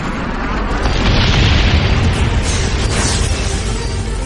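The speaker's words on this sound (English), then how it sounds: "Friendly napalm strike on the way." A loud, rumbling napalm strike explosion in Call of Duty Black Ops on PlayStation 3, a sustained roaring blast with crackling debris that swells and lingers for several seconds, no voices.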